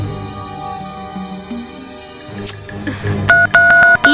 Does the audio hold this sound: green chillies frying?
no